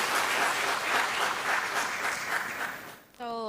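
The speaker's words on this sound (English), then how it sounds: "please give a round of applause for Dr. Alicia and Professor Hausenblas" Audience applause at a science and technology conference session, steady clapping from a hall crowd lasting about three seconds before fading as a voice begins speaking.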